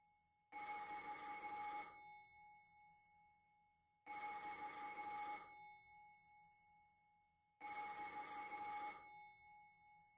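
A telephone rings in a video game: three long, bright electronic bell bursts, each about a second and a half, separated by silent gaps, loud and alone with no talking.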